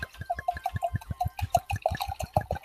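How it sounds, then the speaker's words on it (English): A drink is poured with a rhythmic run of glugs and bubbling drips, close and fairly loud, each gurgle following quickly on the last. "Ready for the pour?"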